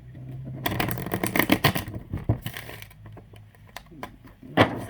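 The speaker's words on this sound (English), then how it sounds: "I think I'll shuffle one more time and then we'll go from there." Tarot cards being shuffled at close range, a burst of dense riffling and slapping followed by scattered taps and a final sharp riffle, with no talking.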